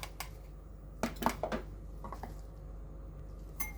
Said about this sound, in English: combine all together. Mix it well.